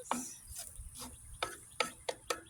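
Chanterelle mushrooms tumble into a dry pan of crisping potatoes, giving a series of sharp, close clicks and light taps spaced irregularly, with soft rustling between them.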